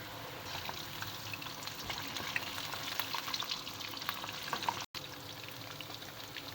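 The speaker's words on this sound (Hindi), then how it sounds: "ये देखें ये कोफ्ते मैंने इसमें डाल दिए। ये देखें तल रही हूँ मैं।" Kofta meatballs fry in hot oil with a soft, continuous bubbling sizzle and fine crackles, close but faint, with a brief dropout near the end.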